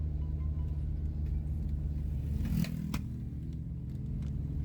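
Car engine straining in low first gear up a steep hill road toward Kaliangkrik, a steady low rumbling drone with a brief scrape and thump partway through.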